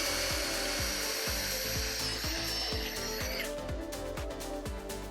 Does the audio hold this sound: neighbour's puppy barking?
no